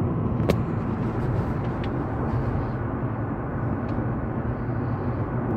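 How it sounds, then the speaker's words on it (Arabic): Inside a 2018 Honda Accord cruising at 90 km/h with the air conditioning on its lowest setting, a steady, moderate road and wind roar fills the cabin without pause. "جرب ازعاج السياره على درجه مكيف واحده وعلى سرعة 90"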